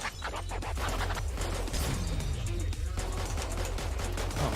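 Rapid gunfire from enemies shooting in the game All Day Dying, a dense continuous rattle of shots with crashing impacts running throughout, loud and close.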